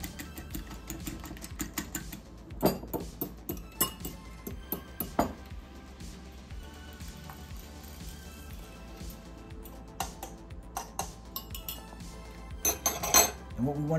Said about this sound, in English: put this into our soup as we're stirring it